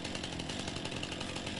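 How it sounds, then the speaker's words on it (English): A chainsaw in Farming Simulator 19, used to cut a tree stump, runs at a steady high-revving drone with a faint rhythmic pulse, close and loud throughout. "Get out my trusty chainsaw."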